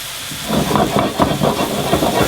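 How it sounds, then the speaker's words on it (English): Pork tenderloin searing in a hot pan gives a loud, steady hiss and sputter that starts quietly and swells into a dense, continuous sizzle. "You can see we've got our pork just searing off until you get a nice browning on it."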